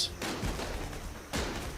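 Sound-effect gunfire during a tabletop role-playing session: two separate bursts of crackling shots, fairly faint, with a short lull between them.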